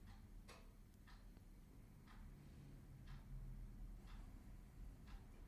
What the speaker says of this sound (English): the ambient sound, ticking of the clock